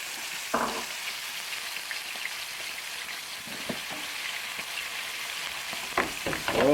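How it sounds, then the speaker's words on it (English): Steak sizzling in a pan of butter and olive oil while being basted, a steady close frying hiss with a few louder spatters and clinks of a spoon or pan, no talking. "we need to baste the steak, and to do that, we're going to use some butter"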